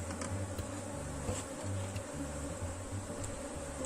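A honey bee swarm drones inside a hive box, a steady close buzzing hum that wavers slightly in pitch throughout, with no talking.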